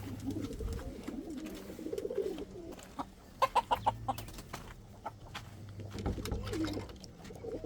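Indian fantail pigeons coo in low, rolling calls from close by, mixed with a few clucks and a quick run of sharp taps midway.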